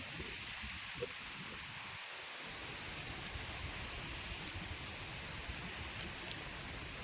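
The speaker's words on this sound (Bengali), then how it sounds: "ঝোড়ো হাওয়া দিয়েছে।" Gusty storm wind roars steadily through a Kalbaishakhi storm, a dense, constant rushing hiss that stays loud from start to finish, with faint patter mixed in and no voices.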